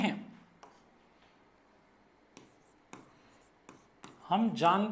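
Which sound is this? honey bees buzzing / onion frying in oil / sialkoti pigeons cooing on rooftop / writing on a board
writing on a board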